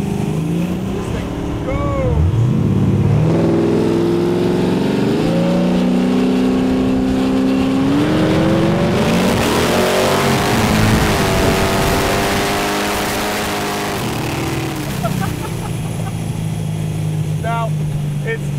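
A 1972 Chevrolet Nova muscle car accelerating hard at close range, its loud engine note rising through the gears in long climbing sweeps before easing off; speech is faintly present.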